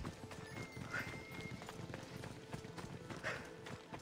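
Hooves of a galloping horse in the video game Assassin's Creed Odyssey beat in a quick, steady rhythm, fairly faint and continuous throughout.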